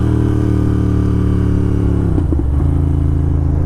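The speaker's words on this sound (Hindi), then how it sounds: "तो ऐसे करते हैं हम रैम मैच करके डाउन शिफ्ट" A motorcycle engine drones steadily at close range, then blips briefly as the rider rev-matches through a downshift before settling back to a lower, even tone.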